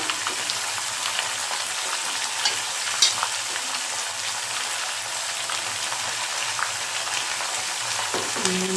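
Cabbage and potato sabji fries and is stirred in a pan, giving a steady, dense sizzle with small scraping clicks throughout and no talking.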